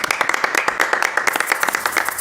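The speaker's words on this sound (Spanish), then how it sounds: "Un aplauso" A small group claps at an anniversary celebration, sharp individual hand claps close to the microphone forming brisk, somewhat uneven applause that thickens toward the end.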